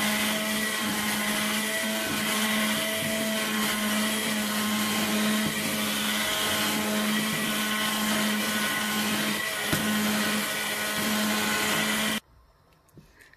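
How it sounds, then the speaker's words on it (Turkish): A kitchen blender purees cooked lentil soup with a steady, loud motor whine and churning for about twelve seconds, then cuts off abruptly, leaving faint room noise. "Şimdi birazcık bunu blenderdan geçireceğim."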